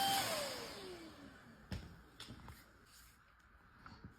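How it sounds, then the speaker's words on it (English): A vacuum cleaner used to hoover a bulldog's coat winds down from a whine, its pitch falling, followed by scattered faint knocks and handling noises. "I can't hoover you all day."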